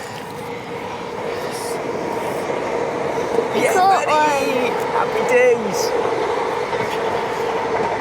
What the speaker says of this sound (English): Just as a train goes.